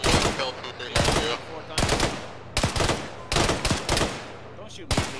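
Sharp, loud gunshots and short bursts in a military shooter game, fired at roughly regular intervals about every second, with a faint radio-like voice murmuring underneath.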